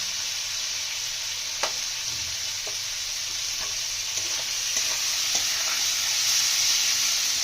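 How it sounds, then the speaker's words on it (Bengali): Spice masala sizzles steadily in a pan with tomatoes for a bhola fish curry, a constant close hiss broken by occasional soft clicks of a stirring spoon, with no voices. "মশলাটা ভালো করে কষিয়ে নেবো। টমেটোগুলো দিয়ে দেবো।"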